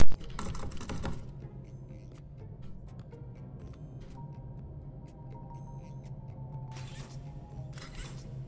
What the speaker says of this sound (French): j'ai appuyé sur toutes les touches de mon clavier